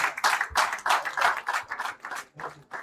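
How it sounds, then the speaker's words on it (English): Audience at a student forum with President Barrow clapping for the students of Hadigara school: a fairly close, crisp round of applause that surges and dips in uneven waves, with a short lull before a final burst. "A clap for them, please"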